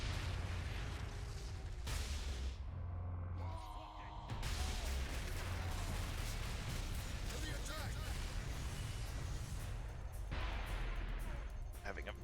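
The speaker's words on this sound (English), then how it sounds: "Orc rocket launchers on the high ground." Ork rocket launchers firing from high ground in the Space Marine: Master Crafted Edition video game, a dense, continuous barrage of booming blasts and rumbling explosions layered over a steady battle din, loud and near, with speech mixed in.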